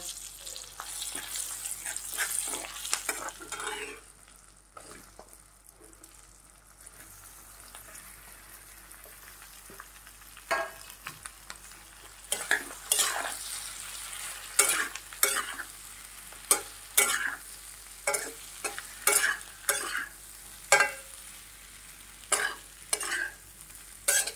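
Boiled potatoes with a pinch of turmeric are stirred in a pan over a low flame, with a soft frying hiss beneath repeated scraping strokes of a spatula that grow louder and more frequent toward the end.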